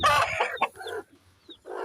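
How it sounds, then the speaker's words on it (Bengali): A broody hen sitting on a clutch of eggs on a small backyard poultry farm gives a few close, loud clucks and throaty calls, then falls quiet before another brief burst of clucking. "এখন হচ্ছে মুরগিটাকে দেখবো এই যে এখানে কুচে বসেছে মুরগিটা"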